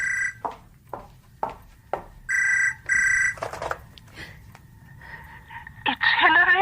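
Telephone bell ringing in repeated bursts in a radio drama scene, loud and close, with brief gasps and a voice between rings.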